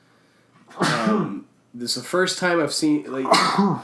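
A single sharp sneeze bursts out, followed by someone talking steadily.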